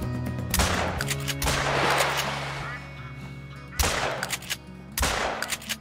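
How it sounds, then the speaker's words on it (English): A 12 gauge Cacciatore shotgun fires in the Call of the Wild hunting game, several loud booming shots with echoing tails spaced a second or two apart over constant game ambience. "now this guy is inside the shotgun range, so I'ma use the 12 gauge cacciatore"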